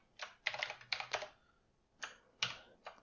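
Computer keyboard typing in quick clustered bursts of keystrokes, close and fairly quiet, with a brief pause between two groups.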